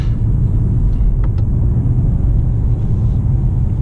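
A 2019 Mercedes-Benz CLS 350d 4Matic coupé with a 9-speed automatic pulls hard under acceleration, heard from inside as a loud, steady, deep engine and road rumble that continues without a break.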